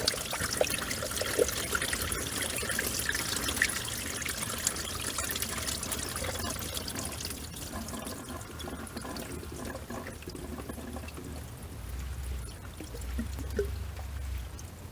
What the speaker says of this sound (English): There goes all the coolant.